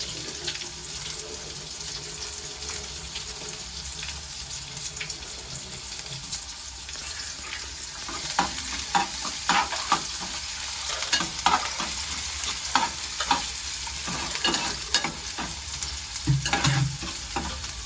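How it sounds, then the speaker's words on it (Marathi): Onion frying in very hot oil, a continuous close sizzle with frequent clinking and scraping stirs growing busier in the second half, plus faint splashes of running water, no talk. "कांदा टाकला तेल मस्त कडकडीत तापले"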